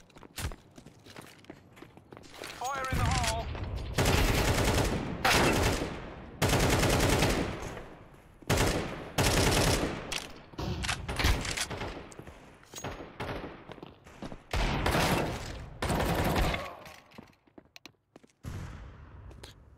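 Rapid bursts of video game gunfire shooting through walls, loud and close, in clustered volleys with short gaps, several sharp shots standing out, over a quiet game backdrop.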